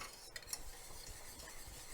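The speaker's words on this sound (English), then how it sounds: "So make sure that you get in the corners while you're whisking it," Hollandaise sauce being whisked in a pan into the corners as it thickens: faint, soft scraping and swishing strokes of a whisk against the pan, quiet and close.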